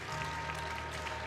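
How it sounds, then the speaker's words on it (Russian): Arena applause for a junior figure skater after a short program at the Russian junior championships, a sustained even clapping from the crowd with a faint low hum underneath. "Даже вот Елена Анатольевна аплодирует этому спортсмену из Тюменской области."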